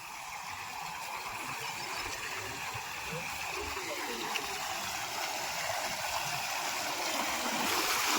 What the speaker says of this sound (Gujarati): અમારા ગામની નદી છે, એના બે નામ છે, પાઇટ છે, મોતીડી છે. અને કેટલું મસ્ત પાણી જાય